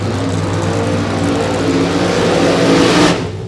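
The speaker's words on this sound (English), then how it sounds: "Let's check the burnout for this funny car entry" A funny car does a long, smoky burnout at a drag strip, its engine holding a loud, steady roar with tire-spinning rasp for several seconds before cutting off abruptly.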